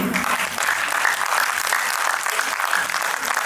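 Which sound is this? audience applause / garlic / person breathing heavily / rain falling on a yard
audience applause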